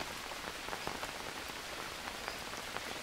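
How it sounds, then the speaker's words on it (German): Rain falls in the jungle survival game Green Hell, a steady, soft patter of drops striking surfaces, constant and fairly faint, with no voices. "da regnet es trotzdem drauf"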